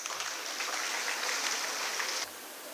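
An audience at a school annual day event gives a broad, steady round of applause, a dense hiss of many hands that holds evenly for a couple of seconds and then cuts off sharply.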